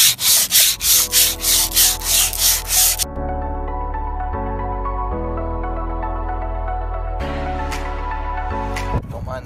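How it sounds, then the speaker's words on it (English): Sandpaper rubs a Jeep TJ rear bumper in loud, rhythmic back-and-forth strokes for about three seconds, then steady tonal music takes over with a few brief scraping sounds near the end. "take some of the sandpaper and sand down this bumper"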